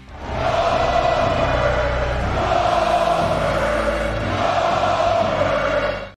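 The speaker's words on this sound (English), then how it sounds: "I could be wrong, but this sounds very similar to Goldberg's iconic chant" A wrestling arena crowd keeps up a loud, sustained chant in the style of Goldberg's famous chant, a dense wall of massed voices holding steady for several seconds with a rhythmic pulse, no single talker standing out.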